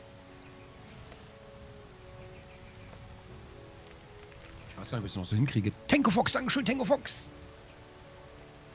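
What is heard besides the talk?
rain falling in Starbound video game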